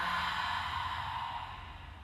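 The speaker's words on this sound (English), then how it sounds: "Big breath in. Big breath out." A big, slow exhale during a family yoga breathing exercise: one breathy, airy rush of breath that starts strong and gradually fades over about two seconds, close and alone.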